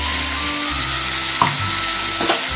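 Tomato, green chili and ginger paste hit a pan of frying pumpkin, giving a steady close sizzle with two sharp bursts as the paste lands, and no talking.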